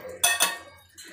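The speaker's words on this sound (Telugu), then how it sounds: "నేను ఇవి ఈ గూటంలో దంచుకుంటున్నాను" Ginger, garlic and chillies are pounded in a mortar with a pestle: two sharp, ringing strikes in quick succession, then a brief pause and the start of a third.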